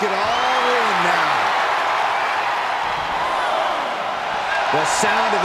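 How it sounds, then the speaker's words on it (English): A loud, constant arena crowd roars and cheers in the video game WWE 2K23 during a SummerSlam Iron Man match featuring Randy Orton, with a commentator's voice running over the din. "The sound of this crowd is deafening, and he's asking for more."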